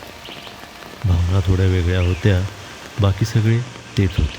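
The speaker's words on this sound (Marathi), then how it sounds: "तेच ते पानावर पडत असलेले पावसाचे थेंब" Monsoon rain drops patter steadily on leaves along a forest footpath during a waterfall trek at Ozarde, a soft constant hiss running beneath spoken narration.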